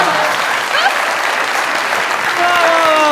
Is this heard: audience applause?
yes